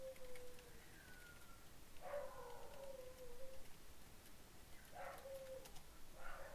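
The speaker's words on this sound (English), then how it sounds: "my dog's howling upstairs" A dog howling upstairs in a house, heard faintly and at a distance as a few long, wavering howls with pauses between them.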